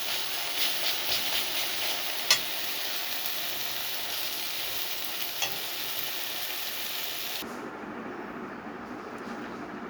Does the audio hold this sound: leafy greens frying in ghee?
yes